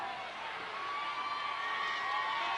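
A wrestling arena crowd in Tulsa cheers and roars steadily throughout, a dense, continuous wash of voices with occasional whoops, heard from within the audience with no pauses.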